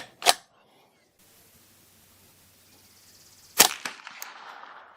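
Two sharp gunshots from a custom 10/22 rifle firing 36 grain Remington Golden Bullet 22LR hollow points, one near the start and another about three seconds later, loud and close with quiet between.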